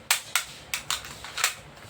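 A C2A full-metal spring airsoft pistol fires six sharp, snappy shots in quick succession, each a crisp close crack with a short decay and no talk.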